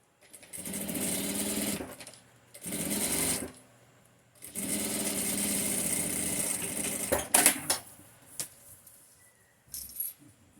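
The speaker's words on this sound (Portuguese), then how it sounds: "E vou fazer 2 costuras, aqui e aqui, para prender esse plástico." Sewing machine stitching plastic sheet onto bias binding for a mask holder: several bursts of fast, even motor-driven stitching separated by pauses, ending with a few short clicks and taps.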